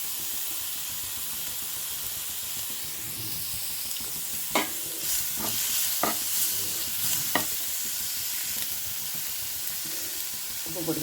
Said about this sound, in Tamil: சும்மா லைட்டாக வதக்கிட்டு பிறகு நாம் அரிஞ்சு வச்ச 2 தக்காளி போட்டுக்கலாம்